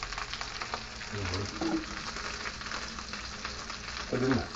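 Homemade meatballs sizzle in a pan of tomato sauce, a steady broadband frying hiss with a few low bubbling pops and faint clatter, and brief low voice-like sounds underneath.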